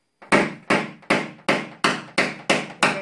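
A Lada Granta body panel is tapped down during paintless dent repair, eight sharp, evenly spaced metallic knocks close up, each ringing briefly before the next strike.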